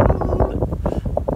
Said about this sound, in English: I'm trying to hide behind the bike from the wind a little bit because it's quite windy out here